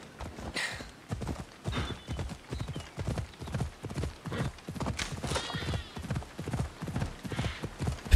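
A horse gallops in Assassin's Creed Odyssey with fast, rhythmic hoofbeats that run steadily throughout, close and moderately loud, with occasional whinnies and a voice speaking underneath.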